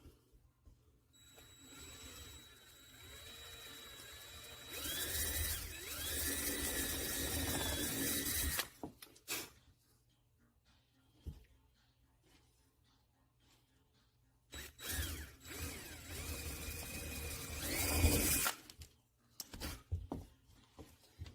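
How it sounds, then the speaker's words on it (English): A drill drives screws in two sustained, whining bursts of several seconds each, separated by quieter pauses with small handling knocks. "So I might just move the screws over just a little bit."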